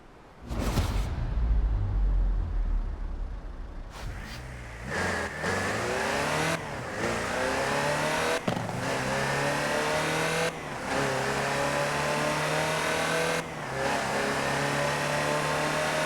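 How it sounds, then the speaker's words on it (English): A Land Rover Series III off-roader in Forza Horizon 4 drives with its engine revving hard, climbing through repeated gear changes marked by brief dips, loud and close, with no talk over it. "The next segment is about Land Rover, and we'll be starting out with the Type 3."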